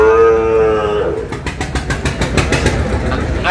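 A Sahiwal bull or calf at a livestock market gives one long, loud, close moo, followed by busy market noise with voices and a faint engine.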